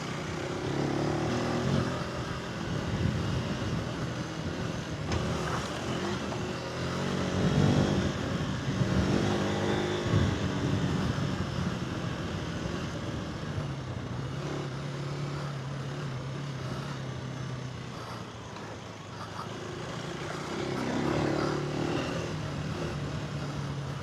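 A 2026 KTM 390 Adventure R motorcycle ridden on a dirt trail, its engine droning steadily close by with rises and dips in revs throughout, no talking.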